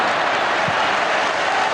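A football stadium crowd applauds during a 1990s Manchester United derby, a dense, loud, steady wash of clapping and crowd noise with no distinct individual sounds.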